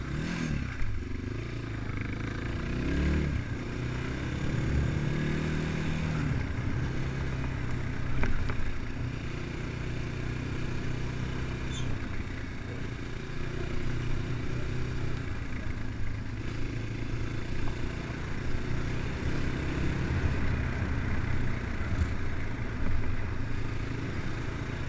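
A Progasi Gaudi 300 motorcycle engine drones continuously while riding, rising and falling in pitch with throttle changes, mixed with wind and road noise and no talk.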